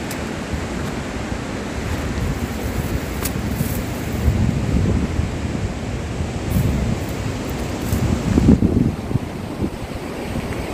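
Saitwade waterfall, a perennial Konkan falls, heard as a loud continuous broadband rush of falling water mixed with wind buffeting the microphone, steady throughout with a brief swell near the end, no speech.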